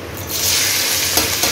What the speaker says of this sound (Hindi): और अब मैं इसमें डाल दूंगी भिंडी